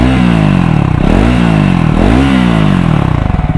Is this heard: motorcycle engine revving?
yes